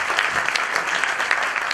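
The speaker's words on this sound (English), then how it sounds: "So let's give him a big applause." An indoor audience at a corporate business talk applauds, a dense, steady burst of clapping that is close and continuous, with no talk.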